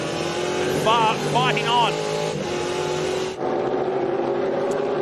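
Race cars circulating at Queensland Raceway during a Hi-Tec Oils Super Series round, engines droning loudly with a brief tire squeal, under a commentator's lively talk.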